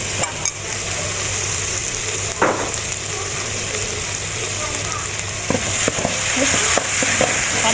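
Garlic fries in a pan with steady, close sizzling while salted egg sauce is stirred in, with a few sharp scrapes and clinks of the utensil over the hiss.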